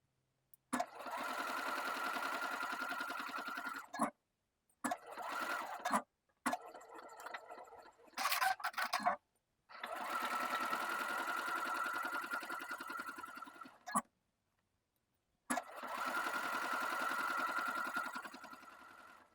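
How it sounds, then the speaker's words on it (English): A sewing machine runs in several sustained bursts of steady, even stitching separated by silent pauses, close and alone, as side pockets are sewn onto boxer shorts with a 1 cm seam allowance. "Sew each side pocket to the shorts with a 1 cm or 3/8 of an inch seam allowance."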